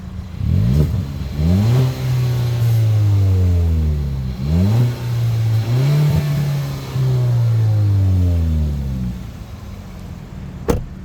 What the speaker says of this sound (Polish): włączony jest aktywny wydech.